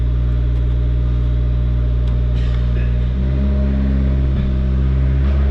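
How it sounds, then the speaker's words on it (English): A 2016 Fiat 500 Abarth engine runs during a transmission test, a loud, steady low drone with a strong hum that shifts slightly partway through, close to the car, with no talking. "Let's test the transmission."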